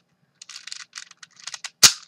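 A loosely tensioned Shengshou 4x4 v4 speed cube being turned with quick, light plastic clicks and rattles, ending in one sharp, loud crack as it pops apart.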